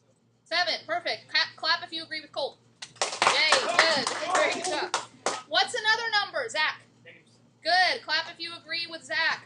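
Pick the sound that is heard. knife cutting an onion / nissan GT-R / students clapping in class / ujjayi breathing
students clapping in class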